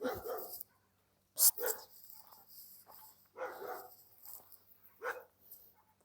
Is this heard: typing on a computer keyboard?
no